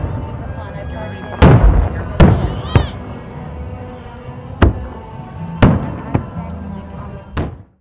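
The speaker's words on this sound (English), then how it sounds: "Fireworks filled the sky for about a half an hour over the Prump Nugget on Highway 372 and 160 last weekend." An annual Saturday-night fireworks show at the Pahrump Nugget on Highway 372 and 160 bursts overhead, with about seven sharp booms and crackles at irregular intervals over crowd murmur and voices.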